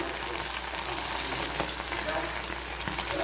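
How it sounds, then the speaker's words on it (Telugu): Whole baby potatoes deep frying in hot oil give off a steady, dense sizzle and crackle that stays close and even from start to finish, with no voices over it. "దాంట్లో వేసి మంచిగా క్రిస్పీగా గోల్డెన్ కలర్ వచ్చే వరకు ఫ్రై చేసేసుకోవాలి"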